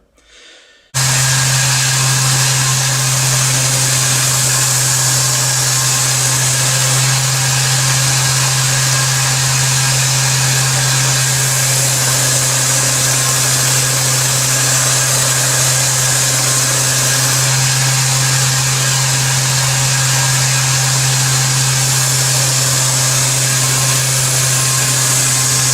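Belt grinder running a finer belt on a convex knife blade, a loud steady mechanical whine with a constant hum that starts abruptly after a brief quiet moment and continues alone without pause.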